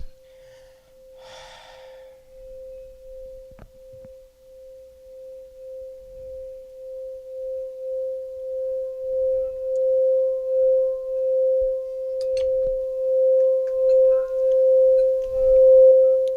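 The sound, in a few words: singing bowl ringing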